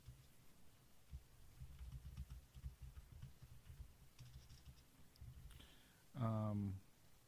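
Fingers type text on a computer keyboard in soft, quick runs of clicks. A voice speaks briefly near the end.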